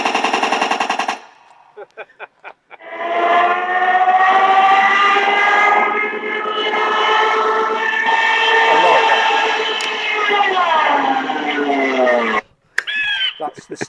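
A Stuka dive siren effect plays from the sound module of a Dancing Wings Hobby DW Eagle V2 RC airplane, a loud rising and wavering wail lasting several seconds after a few short bursts, with brief talk at the edges.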